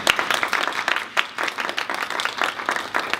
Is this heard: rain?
no